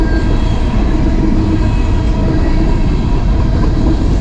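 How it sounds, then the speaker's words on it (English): A train rolls past close by in Thayer, West Virginia, a loud, steady broadband rumble with rail clatter filling the whole stretch, unbroken and without voices. "So the train has finally passed"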